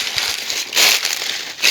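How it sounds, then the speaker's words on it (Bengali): Footsteps rustle and crunch on dry ground in a jungle at night, with crinkly scraping bursts rising and falling close by and no voices over them. "খসখসানি শব্দ পাচ্ছি যদিও আমার এটা পায়ের শব্দ হচ্ছে"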